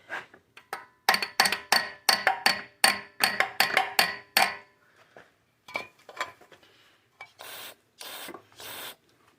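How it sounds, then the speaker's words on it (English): A metal tool taps and knocks on the side of a KC pit bike's carburetor, a close rapid series of sharp hits that pauses, then resumes more sparsely with a few scrapes. "Tap on the side of the carb."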